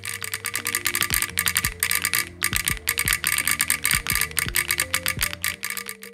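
Rapid mechanical clicks and clacks from typing on a G-Square Studio Vintage 60s keyboard in solenoid mode, each keystroke triggering a sharp metallic knock, steady and fairly loud with no voices.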